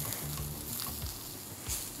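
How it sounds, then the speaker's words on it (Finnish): Sesame and mushrooms fry in oil in a pan for jerky fried rice, a close, steady sizzle with occasional crackles and soft stirring scrapes, no talking. "Hyvä tuoksu, kun tää seesami paistuu tässä sienen kanssa"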